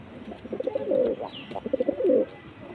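A male domestic pigeon in a home loft coos in two rolling, throaty bouts, close and fairly loud, with short pauses between the phrases.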